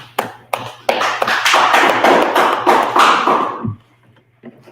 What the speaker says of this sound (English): right, clap it up